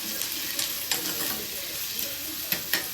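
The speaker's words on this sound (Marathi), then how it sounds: "फिरून घेऊया" A spoon stirs potato bhaji in a hot pan, the steady soft sizzle of frying under scattered light scrapes and taps against the pan, close and without talk.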